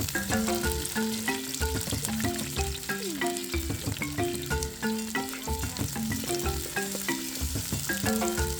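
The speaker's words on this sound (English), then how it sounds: "In fresh oil, we start by frying sliced onions." Sliced onions sizzle steadily in fresh hot oil in a Ghanaian village kitchen, a continuous crackling fry with occasional clinks and stirring, no talking.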